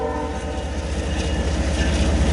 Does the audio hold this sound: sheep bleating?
no